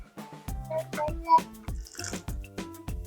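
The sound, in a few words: a little water being added to cooking dish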